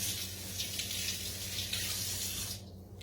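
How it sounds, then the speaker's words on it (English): Water runs steadily from a kitchen faucet as hands are rinsed beneath it, a close, continuous splashing hiss that cuts off near the end. "So let me rinse my hands off real quick."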